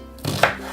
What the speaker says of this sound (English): I'm going to chop it